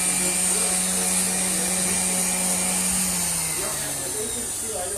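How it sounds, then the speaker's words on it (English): A power sander runs continuously close by, a loud steady whining hum with a high-pitched tonal edge that slowly dips in pitch toward the end, with voices faintly beneath it. "So much sanding. Always sanding."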